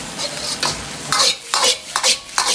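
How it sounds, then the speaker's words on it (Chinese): Wood ear mushrooms and eggs stir-fried over high heat in a wok, with a spatula scraping and tossing in quick repeated strokes over a steady sizzle, close and loud with no talk. "最后开大火快速翻炒几下，炒匀料汁，炒出香味，炒出锅气"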